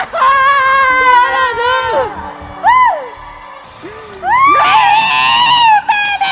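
A woman screams loudly in a staged devotional drama, letting out several long, wavering, piercing cries broken by brief pauses, close and dominant throughout.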